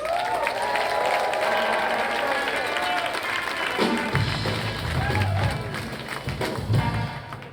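Comedy festival audience in Asheville applauding a comedian, a loud burst of crowd clapping that shifts into lower rumbling and thumping with some voices mixed in.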